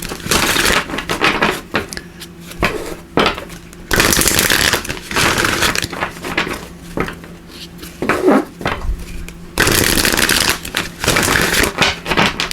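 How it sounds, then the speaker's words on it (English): Shuffling of a Power of Surrender oracle card deck, close and crisp, in several rapid riffling bursts separated by brief pauses and soft handling noises. "let's give these a quick shuffle"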